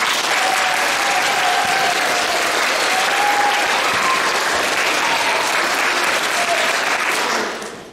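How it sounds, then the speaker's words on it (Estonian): A school concert audience applauds its teachers at a children's song contest, a dense, steady clapping that fills the hall for about seven seconds before tapering off. "Nii et kõige suurem aplaus, mis te üldse oskate teha, on nüüd teie õpetajatele."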